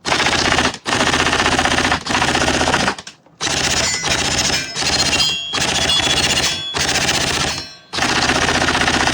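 BZ DDM4 PDW gel blaster toy gun test firing: loud, close bursts of rapid mechanical automatic fire, about seven long strings separated by short gaps, each a dense buzzing rattle of shots.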